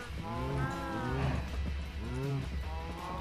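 Cattle lowing in Minecraft, with a few drawn-out, pitched moos repeating over a steady low hum, loud and close to the listener.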